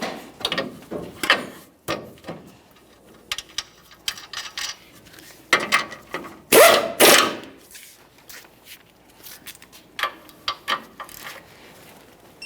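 Ratchet snugging a tie rod end mounting nut on a 2015-2020 Ford F-150 during upper control arm work: scattered bursts of close metallic clicking, with one louder, denser run midway and no talking.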